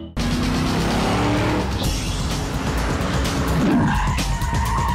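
A sports car with a lively rear end drives hard and skids, its engine roaring loudly and steadily up close while tires squeal partway through, with no talk.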